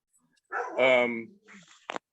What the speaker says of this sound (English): the dog is barking in the background